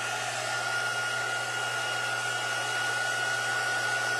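A heat gun blows steadily as it heats embossing ink on paper: a continuous, even roar of fan and hot air, close and unbroken throughout.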